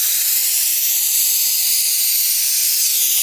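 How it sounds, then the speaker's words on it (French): A handheld garment steamer hisses loudly and steadily, a close, continuous high jet of steam with no pauses and no speech over it. "Patienter en fait que la vapeur rentre bien à l'intérieur"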